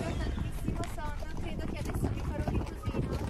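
A horse's hooves clip-clop along outdoors in open countryside, a steady uneven walking rhythm heard close, while people talk over it.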